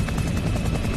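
Helicopter rotor in a Fallout action scene, a steady low chopping drone running loud and continuous through the whole second with no talk over it.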